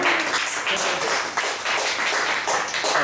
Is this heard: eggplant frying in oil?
no